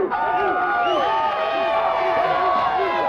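A wrestling crowd at the Circle Tap cheers for a hometown wrestler making his ACW debut, a sustained, loud wall of voices with whoops and rising shouts, under the steady roar of the room.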